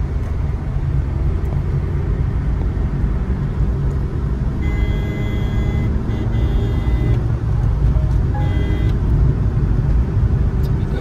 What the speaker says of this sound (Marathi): आता मित्रांनो जरासं आपण गाडी पळून बघतोय.